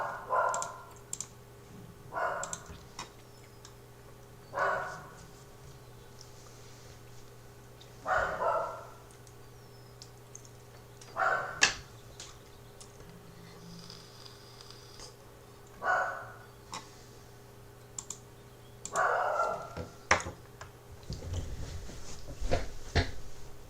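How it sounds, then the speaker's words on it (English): Dogs bark indoors in a series of sharp, separate barks spaced a few seconds apart, moderately close, over a steady low hum and some clicking. "Dogs are getting a little frisky."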